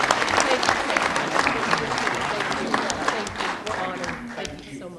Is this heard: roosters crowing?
no